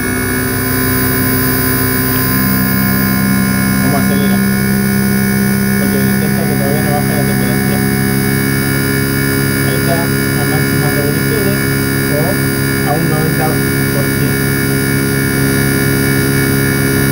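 The compressor of an inverter air conditioner runs steadily at speed, a loud constant hum with layered tonal drones under a faint voice, while refrigerant gas is being charged.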